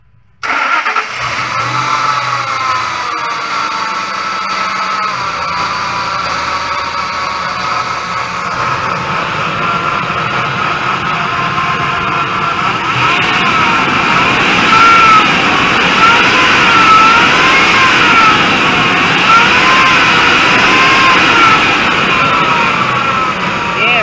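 Ford Expedition that has trouble starting cranks briefly, catches and runs loudly and up close, with the engine revving higher in the second half.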